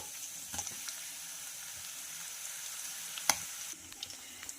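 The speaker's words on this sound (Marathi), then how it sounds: "इथं बघू शकता तुम्ही लसण जिरे कढीपत्ता छानपैकी फ्राय झालेला आहे" Soft, steady sizzling of garlic, cumin and curry leaves frying in hot oil, with a couple of faint clinks from a spoon against the pan.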